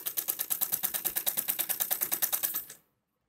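Sewing machine stitching fabric with an attached lining, a fast steady run of even mechanical clicks for under three seconds, close and alone, then stopping abruptly.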